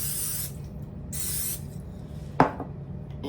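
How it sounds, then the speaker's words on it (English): Two short bursts of Pam cooking spray hiss out onto a waffle maker, followed by a sharp click or tap; no talking. "I'm gonna spray the little waffle maker with some Pam."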